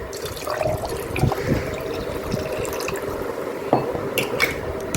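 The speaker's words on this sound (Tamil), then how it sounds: "அதுலேயும் என்ன நான் ஒரு அரை லிட்டர் தண்ணி ஊற்றுறேன்" Half a litre of water pours into a jar while making bio enzyme alongside apple cider vinegar, giving a continuous close splashing, gurgling rush with a few brighter drips.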